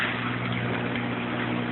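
Water pours steadily from a pipe into aquaponics grow beds in a gravity-fed system, a soft continuous gushing and trickling with a faint pump hum underneath.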